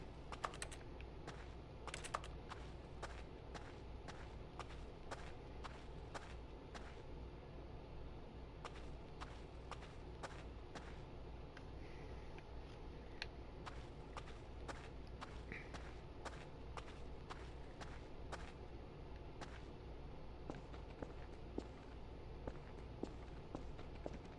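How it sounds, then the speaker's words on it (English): Quiet, steady footsteps tread through The Stanley Parable at an even walking pace, a long run of soft, regular clicks with no talking. "some of the footstep sound effects are from like Half-Life, like Half-Life 2"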